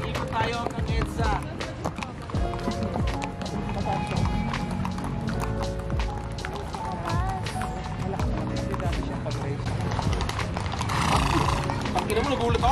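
Horse hooves clip-clop steadily amid busy traffic noise, with people talking over the rhythmic clatter.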